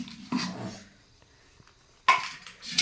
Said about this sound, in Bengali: সবাই মাটির হাঁড়িতে রাখে, আমি টিনের হাঁড়িতে রাখছি